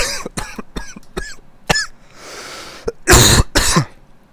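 A man coughs repeatedly in a train driver's cab: a string of sharp, harsh coughs and throat-clearing bursts, then two louder, heavier hacking coughs near the end, close and loud.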